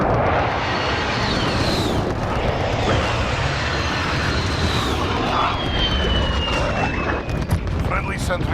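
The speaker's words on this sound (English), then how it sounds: "Friendly precision airstrike on the way." Friendly precision airstrike jets in Call of Duty: Modern Warfare roar overhead through constant loud battlefield rumble and explosions, with whooshing passes sweeping by.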